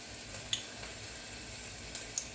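Dried red chillies and whole peppercorns fry in hot oil in a pan for a few seconds: a quiet, even sizzling hiss with a couple of faint crackles.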